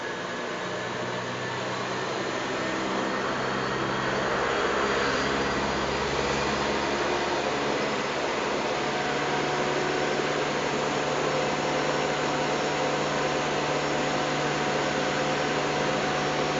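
A turbocharger testing bench with its 5.5 kilowatt airflow motor running, giving a steady, loud whirring drone with a constant hum that holds unchanged throughout.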